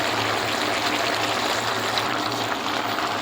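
Water poured into a pan of cooking vegetables, a continuous loud rushing splash that stays even from start to finish, with no talking.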